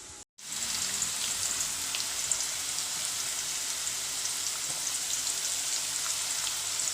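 Thin banana slices for wafers drop into hot oil, bursting into a dense, even crackling sizzle that holds steady throughout after a brief silent moment at the start.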